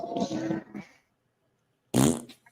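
A person imitates a fart by blowing through the lips, making two raspy, sputtering bursts separated by a pause of silence.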